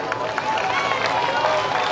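An audience at a poetry recital breaks into a brief burst of applause, a dense, even wash of clapping that fills the room from start to finish.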